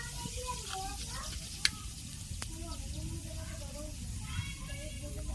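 Dried red chillies and whole cumin seeds sizzle in hot oil with a steady, crackling hiss that runs throughout, while someone talks over the frying.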